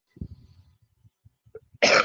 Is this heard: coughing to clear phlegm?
yes